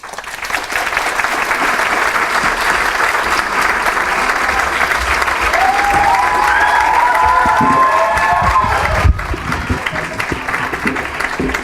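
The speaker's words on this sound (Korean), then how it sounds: "나올 때 큰 박수를 부탁드립니다" Audience at a middle school graduation ceremony applauding loudly and continuously in an indoor hall, with a few scattered voices rising over the clapping.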